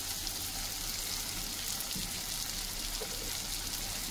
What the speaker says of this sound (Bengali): তো এবার খুব ভালো করে এগুলোকে আমি ভেজে নেব